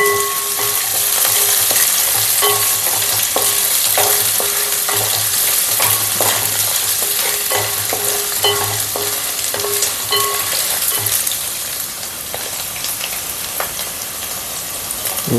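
Ginger and garlic fry in a pan with a loud, steady sizzle, broken by repeated scraping and clanking as a spoon stirs them. The sizzle stays close and continuous, with no talking.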